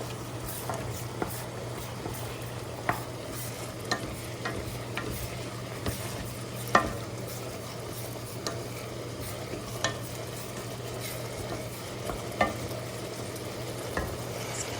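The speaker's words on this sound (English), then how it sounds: "Now just stir to combine the seasoning." A utensil stirs minced meat and seasoning through kid-friendly pad kra pao in a hot pan, with a steady sizzle broken by repeated scraping and clacking strokes, close and clear with no talking.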